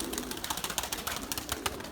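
A white pigeon with a troubled landing leg flies close by, its wings producing quick, rhythmic clapping flutters that come in short repeated bursts, fairly loud and near, with no talking.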